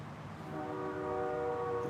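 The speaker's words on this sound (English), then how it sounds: "The train horn is honking again." A train horn sounds a steady, sustained tone from some distance, rising slightly in loudness over a low outdoor rumble, with no talking.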